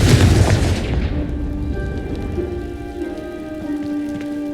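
Confringo spell explosion in the video game Hogwarts Legacy, a loud booming blast that bursts at the start and decays into crackling, rain-like debris with lingering tonal hum.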